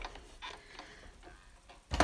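A heavy-duty die-cutting machine is cranked to feed paper and a metal die through on a shaky table. It gives faint, rhythmic mechanical clicks and grinding, then a louder clunk at the end.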